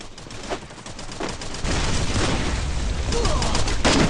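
A first-person shooter firefight goes from sparse single shots into dense, continuous rapid gunfire that grows louder and stays heavy to the end, with faint voices underneath.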